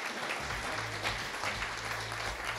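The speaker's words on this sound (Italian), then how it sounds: "Prego un applauso, grazie, spontaneo." Audience applause at a motoring event, a steady wash of clapping from a crowd that holds at an even level from start to finish, without voices over it.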